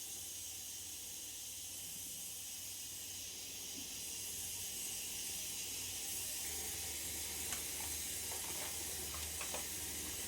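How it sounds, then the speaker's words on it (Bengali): Emami Kachi Ghani mustard oil poured into a hot kadai on a gas stove, a steady soft hiss and sizzle with faint crackles and pops rising toward the end, no voices. "আমি এই ইমামি টেস্টি কাচ্চি ঘানি সর্ষের তেল দিয়ে দিলাম কড়াইতে পরিমাণ মতো।"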